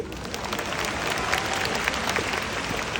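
A concert audience at a show claps in dense, sustained applause that fills the whole three seconds, loud and even, with cheering mixed in.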